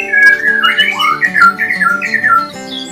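A white-rumped shama (murai batu) sings close by, a loud run of bright whistled phrases and squawky notes rising and falling in quick succession.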